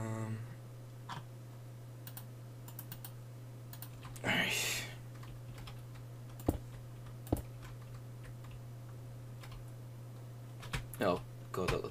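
Clicks of a computer keyboard being typed on during a Minecraft building session, with scattered individual keystrokes and a brief louder burst, over a steady low hum.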